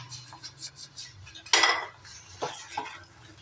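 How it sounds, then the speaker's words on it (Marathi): Boiled potatoes tipped into a pan for shahi dum aloo, soft clinks and scrapes of a utensil followed by a loud clattering drop and a couple of stirring knocks, close and without speech. "त्याच्यामध्ये बटाटे मी ऍड करून घेते"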